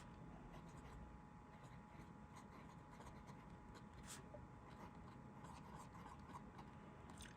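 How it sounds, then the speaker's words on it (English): A 1960s–70s Montblanc 224 piston-filler fountain pen scratching softly across paper, a faint continuous rustle close up with small strokes and no talking. "Now, as I'm writing,"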